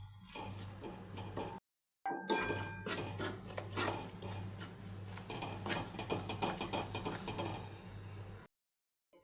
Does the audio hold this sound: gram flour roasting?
yes